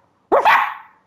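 A new puppy gives one sharp, close bark that slides into a short, rising yelp and trails off within about a second.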